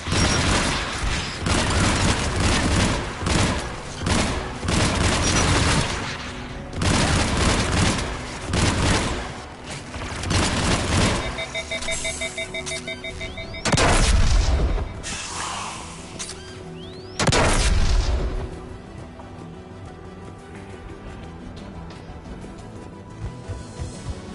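Heavy gunfire from the guns guarding the tower in Mass Effect: dense bursts and booms that roll continuously, with loud blasts near 14 and 17.5 seconds, then a quieter, tone-laced stretch.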